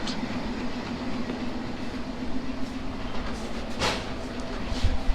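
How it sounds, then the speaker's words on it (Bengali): The Nakshikantha commuter train from Khulna toward Dhaka pulls away from a station, heard from on board as a steady low rumble with faint wheel clatter and occasional metallic squeaks. "তো ট্রেন ছেড়ে দিয়েছে"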